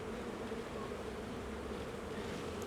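Honey bees buzz inside an open hive during an inspection, a dense, continuous drone close by and steady throughout, with no voices.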